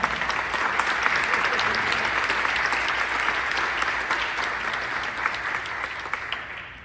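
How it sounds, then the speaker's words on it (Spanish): An audience at a church training workshop breaks into sustained applause for a priest, a thick, even wash of clapping from many hands that holds steady for several seconds before tapering off at the end. "Un aplauso, Padre."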